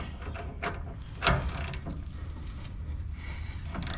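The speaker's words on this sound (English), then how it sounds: "so I can get a longer ratchet up in here" A ratchet wrench works on a tie rod of a ninth-generation Ford F250 truck, making faint mechanical clicks and creaks with one sharper knock in a quiet setting.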